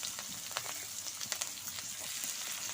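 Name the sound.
frying chopped onion, chili and garlic in a wok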